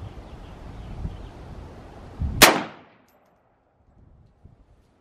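A single sharp gunshot cracks at a range as a round strikes the bottom of a 17-year-old ballistic vest, a loud close report that decays quickly into near silence.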